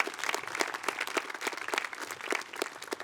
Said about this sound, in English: Let's give another round of applause to our student speakers.